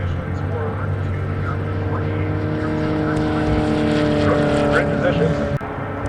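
Vintage race cars roar past at a Rocky Mountain Vintage Racing event, a steady dense engine drone with rising harmonic whines as cars pass by, and voices can be heard faintly under the noise.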